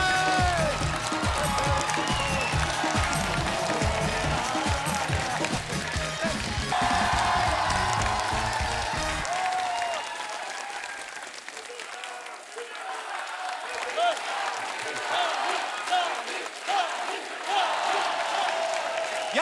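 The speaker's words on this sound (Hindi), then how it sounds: "सबसे पहले मैं बुलाने जा रहा हूं आप सबकी जोरदार तालियों के बीच, प्लीज वेलकम दमदार, धमाकेदार, सुपरस्टार सनी" A studio audience at a comedy talk show claps and cheers loudly to welcome a guest, with whoops and a rhythmic beat at first, then the applause thins and fades into lighter clapping and murmurs.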